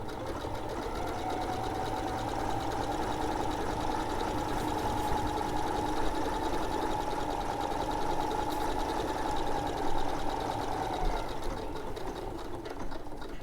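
A sewing machine set to a longer stitch runs steadily through several thick quilt layers for the whole stretch, a continuous close mechanical whir with a constant hum and no pauses.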